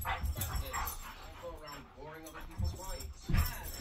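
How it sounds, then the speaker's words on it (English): Two young dogs play together close by, giving scattered short barks and yips amid scuffling, while people talk quietly in the background. "Two wild dogs."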